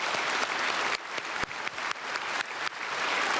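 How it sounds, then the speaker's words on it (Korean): A church congregation at a Sunday worship service claps together in a loud, sustained burst, dense clapping broken by a few sharper hand strikes, with no speech over it. "오늘 3부 예배 등록해 주신 분 박수하겠습니다."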